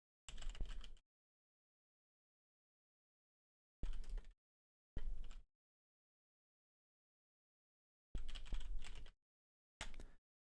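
Bursts of typing on a computer keyboard, five short clusters of rapid key clicks separated by silent pauses, close and fairly quiet, with no voices.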